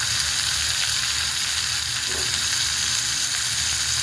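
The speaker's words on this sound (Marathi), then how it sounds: "आता हे आपले भोपळे चिरून घेतलेले स्वच्छ धुवून ते टाकून घेऊया तेलामध्ये" Chopped bottle gourd pieces fry in hot oil spiced with garam masala, a loud, dense, continuous sizzle right up close, with faint stirring and no speech.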